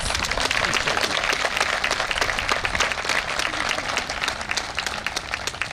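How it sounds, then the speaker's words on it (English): A crowd at a flag raising ceremony applauds, dense and sustained clapping at full strength that tapers only slightly toward the end. "Please give them all a round of applause"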